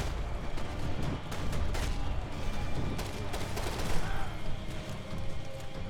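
Dense gunfire from the video game Max Payne 3, with rapid overlapping shots and booming impacts forming a loud, continuous barrage.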